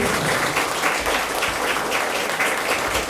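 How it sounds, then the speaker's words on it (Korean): Warm, continuous applause from a room of local council members at a Korean political party campaign event, a dense even wash of clapping held at steady volume throughout. "박수 부탁드립니다."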